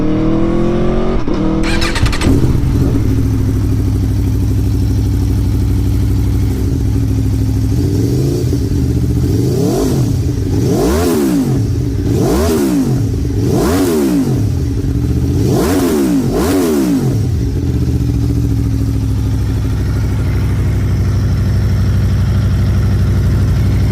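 A 2021 Aprilia Tuono Factory motorcycle engine idles, then revs hard in a series of about five sharp throttle blips that rise and fall, loud and close, before settling back to a steady idle.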